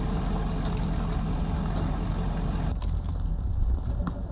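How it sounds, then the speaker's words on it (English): A vehicle engine idles steadily in the Squad video game, a constant loud low rumble with no voices, the drone thinning partway through. "can you shut the engine off?"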